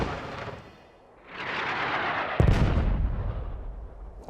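An artillery round lands on target during a fire support mission, a heavy distant boom that hits sharply and then rolls into a long rumbling echo across open ground.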